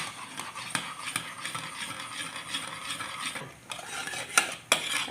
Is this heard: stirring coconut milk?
yes